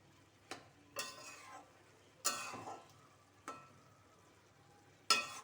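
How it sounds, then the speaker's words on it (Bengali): Cabbage being stirred in a pan, heard as five separate scraping, rustling strokes spaced a second or so apart, fairly close and quiet, with faint sizzling between them. "এবারে আবারও এটাকে একটু নেড়ে নিতে হবে।"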